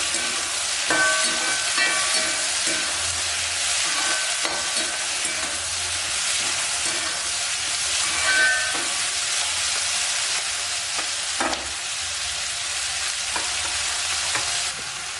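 Tomatoes sautéing in a pan for Chettinad coriander chutney, a steady close sizzle with occasional stirring scrapes and light clinks, no talking.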